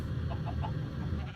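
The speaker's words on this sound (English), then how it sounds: "I've got a ton of chickens walking around." Chickens in Minecraft Sky Factory cluck softly and repeatedly beneath a steady, dense background wash, with no one talking.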